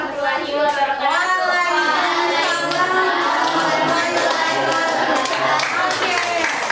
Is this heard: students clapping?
yes